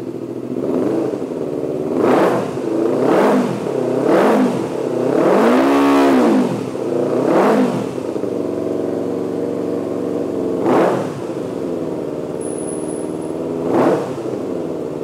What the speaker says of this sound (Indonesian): kita cek sound aja dulu motor ini supaya kalian lebih jelas dengar suara motornya